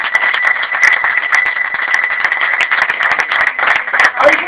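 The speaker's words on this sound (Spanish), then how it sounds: "¡Aplausos!" An audience applauds at a comedic talk, with loud, fast, fairly even clapping that continues steadily for several seconds and fills the room close by.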